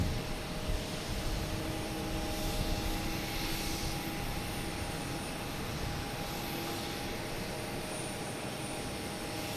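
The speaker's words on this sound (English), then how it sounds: "It might be the Delta that's lined up right now to take off, heading to Miami. 737-800, flight 776." Delta Boeing 737-800 jet taking off at Boston Logan, a steady broadband engine rumble held at a distance for several seconds, with faint tonal whines above it and no voices.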